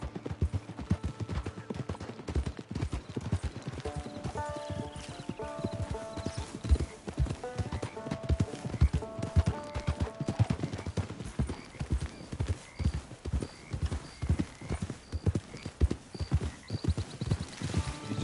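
Horse hooves in the video game Red Dead Redemption 2, a steady rhythmic clip-clop of a galloping horse throughout, loud and close, with a faint game music bed underneath.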